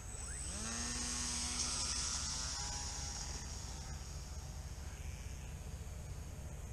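A small UMX Timber RC model airplane with its takeoff flaps down spins up and takes off, its electric motor whine climbing in pitch and then holding steady and fairly loud against a constant hum, with no talking.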